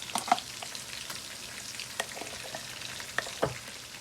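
Chicken pieces frying in a pan for Pakistani-style fried chicken, a quiet continuous sizzle with scattered small pops and crackles, close but soft, with no talking.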